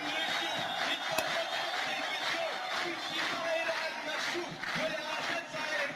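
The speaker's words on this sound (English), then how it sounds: "Do you think ISIS sings and dances and claps like this?" A crowd at an uprising against Assad in Syria sings, chants and claps together, sounding distant and faint, with a sustained mass of voices and a sharp clap-like hit early on.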